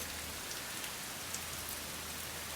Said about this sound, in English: We got thunder, lightning, pretty good rain.